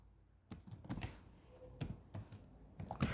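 Keys on a computer keyboard are struck while a formula is entered in Excel, giving several distinct, close clicks in small clusters against a quiet background.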